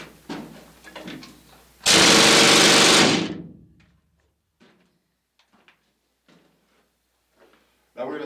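A heavy 276-pound mining drill in a Colorado gold mine roars in a single loud, dense burst lasting about a second, then cuts off abruptly, leaving faint scattered knocks and echoes before it starts up again at the very end.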